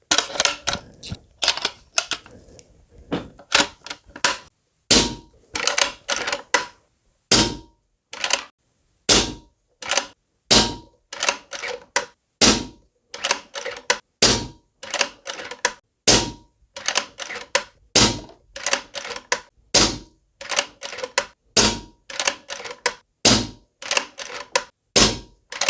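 AGT Uragan2 air rifle firing 8.64 grain H&N Field Target Trophy pellets: a long sequence of sharp, loud shots at a fairly steady pace, each crisp crack close by, with brief clicks of cycling between shots and no talk.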